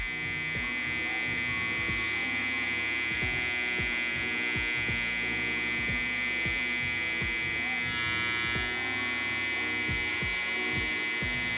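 An electric hair clipper buzzing steadily while cutting a taper fade, a close, constant motor hum with repeated soft strokes as it passes through hair, no talking over it.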